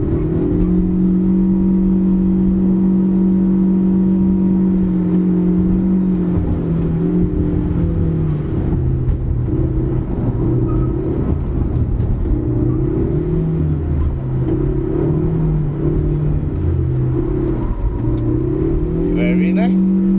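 A Proton Saga FLX 1.6 car coasting downhill on a damp road, its steady engine hum and road rumble continuous and close, shifting pitch slightly as it rolls, with people talking inside the cabin.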